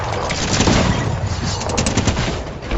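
Gunfire in the Fortnite video game, a dense, continuous rattle of rapid shots that stays loud and steady throughout without any talk.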